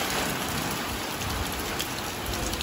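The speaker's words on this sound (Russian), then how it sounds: "У нас неожиданно пошел дождь" Sudden rain pours down outdoors, a dense, steady hiss of drops striking surfaces, soft and continuous with no voices.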